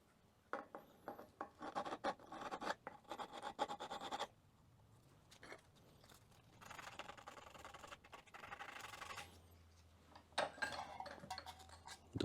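Hand sanding and deburring the sides of a Saiga .223/5.56 magazine with sandpaper, quiet close-up bursts of rapid scratchy rubbing strokes separated by short pauses.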